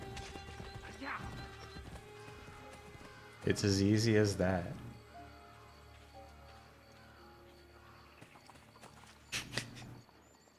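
Horse hooves clip-clop in the video game Assassin's Creed Brotherhood, a loud burst of galloping with a whinny midway, then quieter ambience and a second short burst, while someone talks over it.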